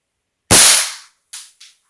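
A pumped BB gun, set to 10 pumps, fires a patched and lubricated BB at padded coffee-can armor: one sharp, loud crack that rings out briefly, followed by two smaller knocks as the BB strikes and rolls back.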